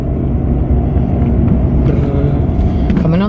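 A car drives steadily along, its engine and road noise forming a constant close rumble, with a rising whine near the end.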